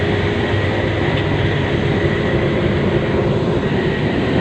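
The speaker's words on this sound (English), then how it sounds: "Apparently the average speed of this train is 30 kilometers per hour" Train riding along a railway in Myanmar, a constant loud rumble and rattle of the carriage heard from on board, steady and unbroken with no speech.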